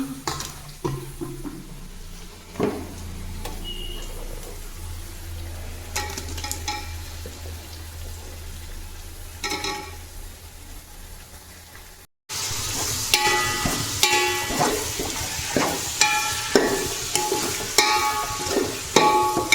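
Tomatoes frying in ginger garlic paste for mutton biryani, a steady close sizzle with stirring scrapes that turns louder and brighter partway through as the tomatoes hit the pan.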